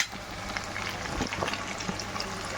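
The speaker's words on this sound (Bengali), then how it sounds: "ভাজা ভাজা চিংড়ি মাছটা, চিকেনটা ভাজা ভাজা, এখন পেঁয়াজটা দিয়ে দিচ্ছি" Chopped onion going into a hot pan alongside fried prawns and chicken, giving a steady, dense sizzle and crackle with a few louder spits and no voices.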